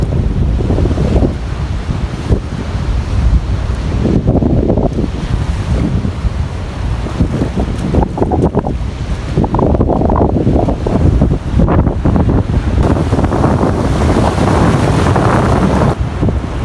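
Surf rolls onto a sunny beach while sea wind buffets the microphone, a steady loud wash of breaking waves with gusty rumble throughout, no voices.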